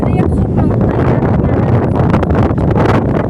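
Strong wind blows across an open field, loud gusty buffeting that roars continuously close to the microphone.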